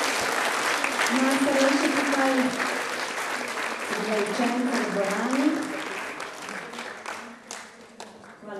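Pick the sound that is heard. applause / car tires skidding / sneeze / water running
applause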